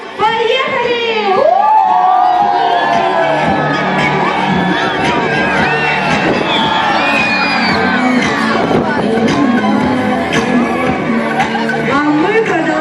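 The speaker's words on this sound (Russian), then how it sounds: "Громко-громко кричим, когда встаем." Children at a summer camp bonfire gathering shout together in a long, loud rolling wave of cheering and whooping, sustained for over ten seconds from a large crowd of camp groups.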